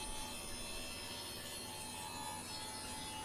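A wooden panel for a cabinet humidor being cut with a dado, giving a steady, continuous rasping, rubbing cut noise that holds at an even level throughout with no talking.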